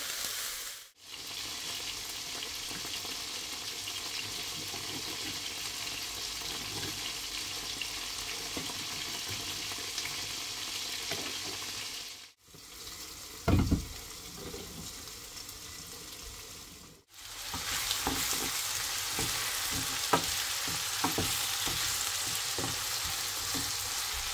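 Food sizzling steadily in a hot pan for a meal, a loud, dense frying hiss broken by a few short pauses, with occasional scrapes and knocks as the pieces are turned so each side browns.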